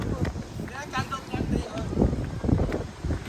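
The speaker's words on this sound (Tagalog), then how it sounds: "Lakas ang hangin eh." Gusty wind buffets the microphone with low rumbling roars while people talk and call out over it.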